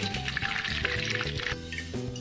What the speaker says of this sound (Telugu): ఇప్పుడు త్వరగా ఈ కరేపక్కు పచ్చిమిరపకాయలని కొంచెం ఆయిల్లో వేడి చేద్దాం